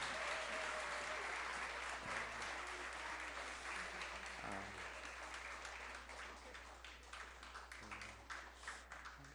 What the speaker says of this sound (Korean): 우리 예쁘고 귀여운 우리 자녀들에게 한 번 더 큰 박수로 우리 격려하고 축복하겠습니다.